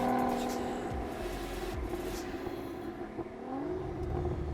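A ten-year-old Aston Martin DB9 with its V12 drones steadily from the cabin on a night drive, the revs climbing noticeably toward the end.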